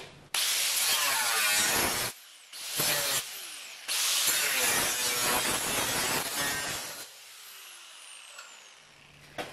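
A power tool cuts out rusty sheet metal on a Ford F100 truck bed in loud, harsh, grinding bursts, stopping twice briefly before a longer cut that fades off near the end.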